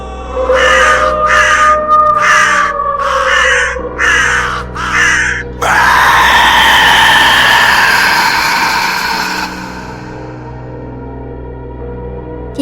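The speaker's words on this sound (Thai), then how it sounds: "พร้อมกับเสียงกรีดร้องของยามค่ำคืน" Night screams in a Thai horror audio drama: a run of harsh, rhythmic caw-like shrieks, then one long, loud, wavering wail that fades, set over a low constant hum.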